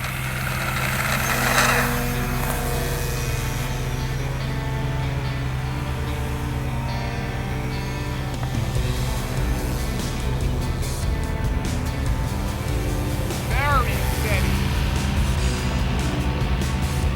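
Starmax 1400mm Cessna 182 RC plane with a steerable tail wheel, flying on its first flight. A steady, continuous motor drone blends with wind noise throughout, and there is no talking.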